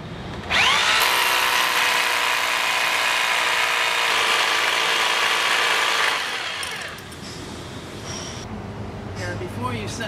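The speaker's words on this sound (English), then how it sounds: "first we'll begin by drilling our hole for our drop-in anchor" A loud AGP S250 diamond core drill bores steadily through hard material, drilling a hole for a drop-in anchor, for about six seconds, then winds down into quieter rattling and handling noise.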